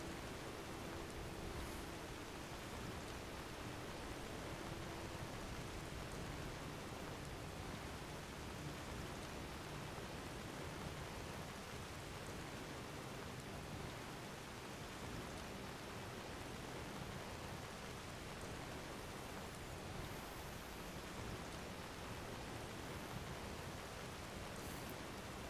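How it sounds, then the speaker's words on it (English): Steady rain falls outside on a 62-degree day, a dense, even hiss of drops that stays constant and fairly faint throughout, with no talk over it. "Well, it's also raining, so probably not wise to open my windows."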